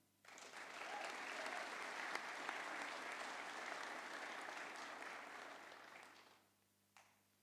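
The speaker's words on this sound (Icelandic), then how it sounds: "Mér langar líka að gefa þeim gott klapp." Audience applause at a 2022 graduation ceremony of Verkmenntaskóli Austurlands in Iceland, a sustained round of steady clapping from a large indoor crowd lasting about six seconds before fading, then one stray clap.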